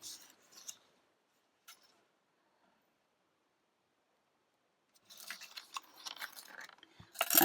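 Scissors cutting patterned paper for card making: a few faint snips early on, a long silent pause, then a busy run of crisp close cuts and rustles, ending in a louder snip.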